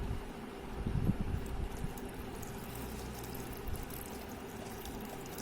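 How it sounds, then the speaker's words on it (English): Dirty water with floating leaf and grass bits is poured into a homemade rural water filter, a continuous splashing rush with a slightly heavier gush near the start. "Now I am going to pour this into this water filter which we have made."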